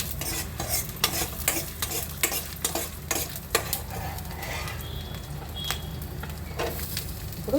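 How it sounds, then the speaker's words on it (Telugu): Garlic sizzling and frying in oil in a pan for radish chutney, a steady close hiss with repeated scraping stirs of a spatula through the first half. "ఇప్పుడు తెల్లగడ్డలు వేస్తున్నానండి."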